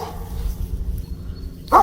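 A dog gives a single sharp bark near the end after a stretch of low rumbling background, close and fairly loud, in a tense wilderness setting.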